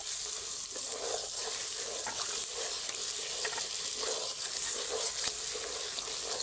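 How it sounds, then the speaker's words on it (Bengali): Fried pointed gourd (potol) stirred in a pan of spices, a steady sizzle broken by repeated scraping strokes of a spatula at a moderate level. "এবার দিয়ে দেবো ভেজে রাখা পটলগুলোকে দিয়ে বেশ কিছুক্ষণ এটাকে নেড়ে দিচ্ছি।"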